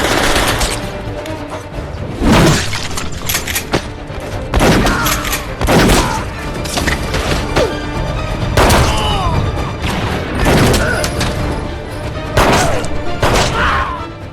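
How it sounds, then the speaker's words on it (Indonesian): Movie shootout between police and a Chinese Triad gang, dense bursts of loud gunfire and booming impacts repeating throughout, with heavy crashes layered over a continuous roar. "Baku tembak yang terjadi cukup menyulitkan buat mereka"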